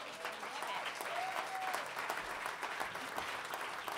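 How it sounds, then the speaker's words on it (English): Soft, steady clapping from a small studio audience at a Milwaukee live music session, a continuous rattle of hands heard at some distance with faint vocal sounds over it. "It's worth some clapping, for sure."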